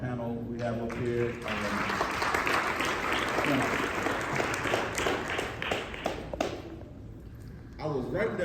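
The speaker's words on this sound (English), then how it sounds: "give a round of applause for our panel we have up here." An audience applauds a panel on stage at an event, dense clapping swelling up after a voice speaks, holding for several seconds with a few louder nearby claps, then fading as a speaker returns.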